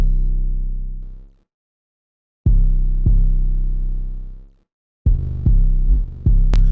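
Deep, booming 808 bass notes hold and then fade out. A punchier run of distorted, gritty 808 bass hits follows with sharp clicks at each attack, loud and up front.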